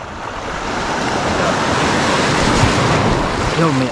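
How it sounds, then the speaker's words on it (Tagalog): Ocean surf in Batangas under gloomy weather washes in a continuous loud roar, with wind buffeting the microphone and a brief faint voice near the end. "Yo, may alon."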